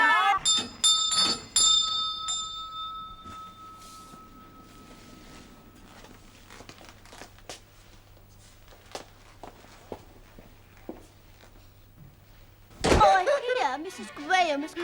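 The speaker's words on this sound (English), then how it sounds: "Ring the bell." A bell rings out once at the start, its clear tone hanging and fading over a few seconds. Soft footsteps and thuds follow, then a sudden loud burst of noise near the end.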